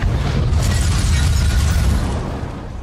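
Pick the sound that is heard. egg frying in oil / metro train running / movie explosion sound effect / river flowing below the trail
movie explosion sound effect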